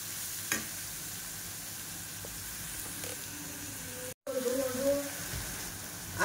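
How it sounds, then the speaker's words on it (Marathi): Ginger garlic paste fries in oil for chicken, a steady soft sizzle with occasional utensil clicks, briefly cutting out before resuming slightly louder. "आता आपली हे अद्रक लसूणची पेस्ट झालेली आहे तेलामध्ये."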